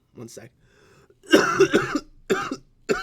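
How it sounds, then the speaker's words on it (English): A few rough coughs close to the microphone, in short bursts, after a brief spoken phrase. "I have a crazy cough."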